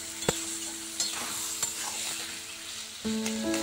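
Hilsa fish head and taro greens stirred while frying in a pan, a soft sizzle underneath with sharp scraping knocks of a spatula at irregular intervals, and a brighter hiss swelling near the end.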